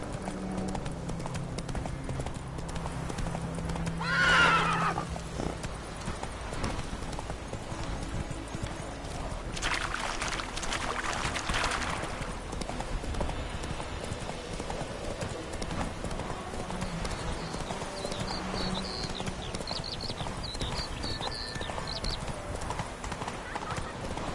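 A horse gallops in the video game The Witcher 3, with rhythmic hoof clip-clops running throughout and a brief whinny early on, over a constant layer of ambient game sound.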